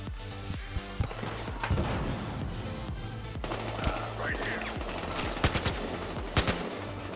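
Bursts of video game gunfire crackle over a dense, noisy backdrop, with scattered louder shots and voices talking underneath.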